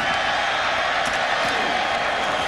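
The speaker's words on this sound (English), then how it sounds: "Crowd gave them a mock cheer as they did handle the kickoff" A college football stadium crowd's roar at a West Virginia versus UConn game after a kickoff catch, a broad sustained wash of cheering and whoops, loud and distant-sounding, with faint talk underneath.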